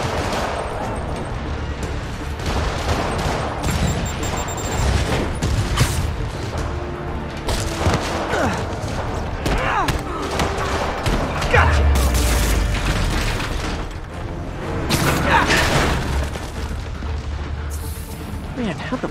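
Heavy booming rocket explosions in Marvel's Spider-Man Remastered on PC, loud and repeated over a dense, continuous din of combat noise, with voices talking throughout.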